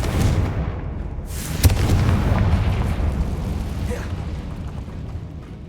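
A Confringo fire spell goes off in the video game Hogwarts Legacy as a sharp blast followed by a rumbling, booming roar that slowly fades over several seconds.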